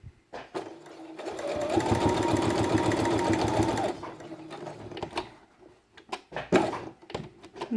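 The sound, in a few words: sewing machine stitching felt with a straight stitch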